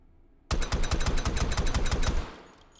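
A suppressed Desert Eagle .50 AE pistol fitted with a stock fires in the H3VR game: a rapid, loud, close string of about fifteen evenly spaced muffled shots lasting nearly two seconds, then a short fading tail.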